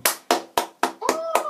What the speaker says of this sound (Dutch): Applaus voor haar, Tess.